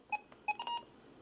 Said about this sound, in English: let's start with the button beeps